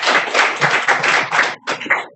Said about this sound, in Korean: 목사님 박수로 모시겠습니다